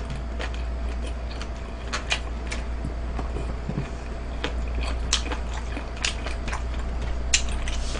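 Someone chewing half a dried squid in a close-miked eating broadcast: irregular crisp bites and clicks over a steady low hum, with no talking.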